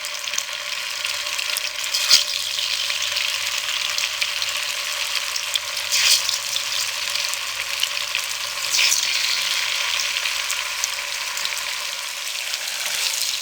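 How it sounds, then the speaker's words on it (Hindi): Gram flour khandvi rolls frying in oil on a low flame, a steady, close sizzle with soft bubbling crackle and occasional light stirring clicks throughout, no talk. "अब इसको हम लो फ्लेम पे फ्राई करेंगे।"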